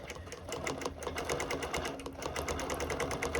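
A sewing machine stitches decorative yarn onto a quilt, running with a fast, even needle rhythm that stays close and steady from start to finish with no talking.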